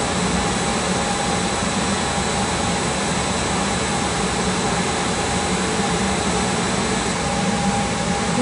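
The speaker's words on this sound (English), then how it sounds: "We have the burner running with the ADT control on this time." An industrial burner with ADT control runs with its combustion fan, giving a steady, loud broadband roar with a faint constant tonal hum throughout, no breaks or voices.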